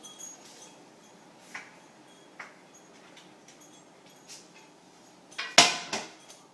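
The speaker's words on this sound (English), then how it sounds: "I'm going to take this pan here, start to warm it up on really low" A frying pan is set down on a stove with one sharp metallic clank near the end, preceded by a few faint kitchen clicks and taps in a quiet room.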